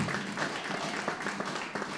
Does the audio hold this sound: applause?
yes